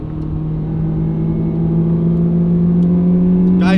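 Honda S2000 engine revs steadily and rises slightly in pitch under load as VTEC engages, a loud continuous drone from inside the moving car with no talk.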